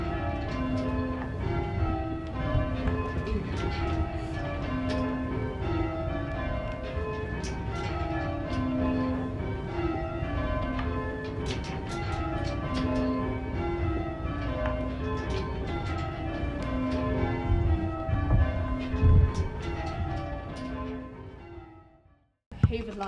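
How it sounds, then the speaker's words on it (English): Church tower bells ring one after another in a steady repeating order, a loud, full peal of overlapping tones that runs continuously and then stops abruptly near the end. "what we'll demonstrate is the bells just ringing in order"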